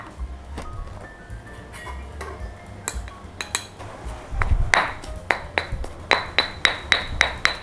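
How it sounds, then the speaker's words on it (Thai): Shallots, salt and shrimp paste pounded in a mortar, heard as irregular dull thumps that turn into a quick, even series of sharp knocks and clinks toward the end, close and clear, with no talking. "ใส่หอมแดง ใส่เกลือ ก็ตำจนกว่ามันจะ เนียนทั้งหมด ใส่กะปิค่ะ"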